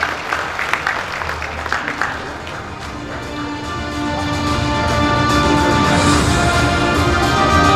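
An audience at an awards show applauds, the clapping swelling from a scattered start into a loud, sustained roar of a large crowd, with a voice heard briefly early on.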